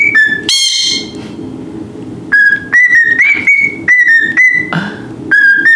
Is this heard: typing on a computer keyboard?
no